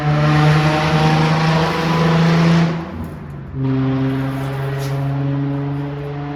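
A car engine idles loudly and roughly through a worn, leaking muffler, a steady droning rumble that dips briefly and then returns, close by with no talk.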